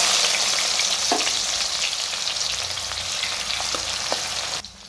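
Onion dropped into hot oil for a tempering of crackled cumin and mustard seeds, giving a steady close sizzle and frying hiss with a few faint clinks, cutting off abruptly at the end.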